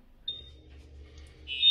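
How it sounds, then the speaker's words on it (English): A La Quinta hotel fire alarm sounds in a room early in the morning, thin high electronic tones coming through faintly, one short beep followed by a louder sustained tone at the end, over a low room hum. "the fire alarm goes off, and it doesn't"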